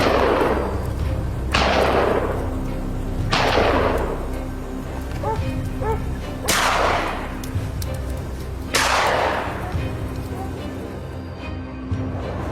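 Five heavy booming gunshots from a wild boar hunt on a snowy mountain, spaced a couple of seconds apart, each with a long rumbling decay, over steady howling wind and low background noise.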